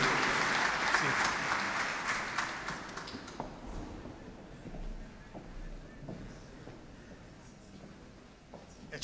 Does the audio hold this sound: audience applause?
yes